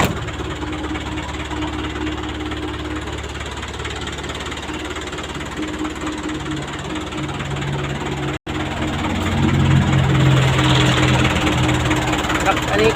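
The four-cylinder W04D diesel engine of a Hino FB truck runs at a steady idle, a close, constant low throb with mechanical clatter that grows slightly louder near the end, while someone talks over it.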